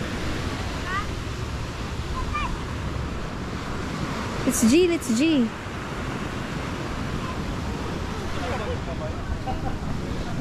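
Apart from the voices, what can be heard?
sea waves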